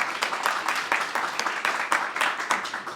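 Gathered audience at a spiritual birthday celebration claps loudly and rhythmically, dense rapid hand claps forming a continuous wash with regular peaks.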